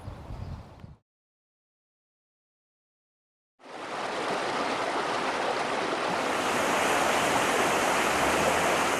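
Untreated water gushes from a mine seal blowout at a coal mine in Preston County, West Virginia, a steady broadband rushing roar that starts abruptly after a short silence and continues loud and unbroken.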